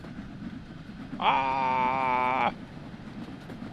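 A steam train in Train Sim World 3, on a Cornish steam route, passes by with a loud harmonic whistle lasting just over a second, standing out over the steady rumble of the player's own train. A voice gives a brief exclamation.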